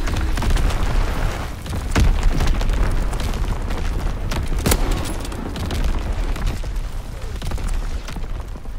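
A Fritz X bomb goes off in Call of Duty, a rumbling roar of blasts and explosions with a few sharp cracks standing out over a constant loud battlefield din.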